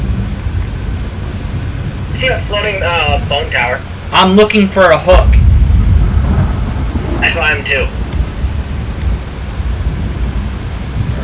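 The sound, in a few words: hail and thunderstorm hitting a truck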